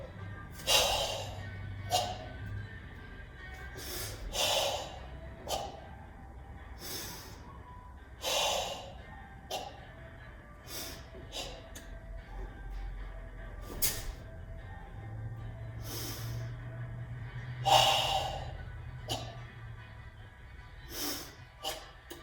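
A karate instructor breathes forcefully while performing Goju Ryu Sanseiryu kata, with sharp, hissing exhalations and snorts at irregular intervals, some long and drawn out, set against a quiet room.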